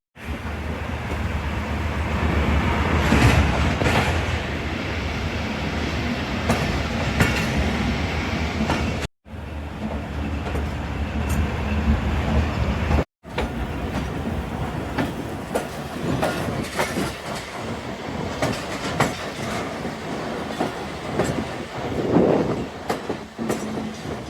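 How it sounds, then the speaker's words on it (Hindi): A passenger train departs Shahdara station on the Narowal section, its wheels giving a steady, loud rolling clickety-clack on the rails from inside the carriage, with the rhythm continuing throughout after two brief breaks. "2 मिनट के स्टॉप के बाद हमारा डिपार्चर हो चुका है शाहदरा स्टेशन से"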